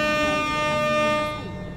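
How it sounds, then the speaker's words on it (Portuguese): Air horn of a Petrobras Volvo FH16 truck in a truck driving video game, one long, loud, steady blast that fades slightly toward the end. "Givanilson, toma buzinada, Givanilson."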